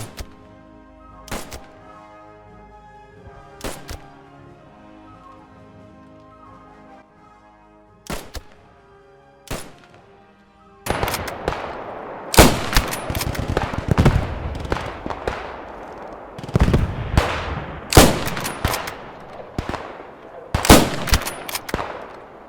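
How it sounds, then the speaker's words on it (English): Gunfire from shooting at targets in the video game Squad 44: sparse single sharp shots at first, then a denser, louder run of rapid reports and bursts with rolling echoes. No one speaks. "And now you're going to shoot the targets again."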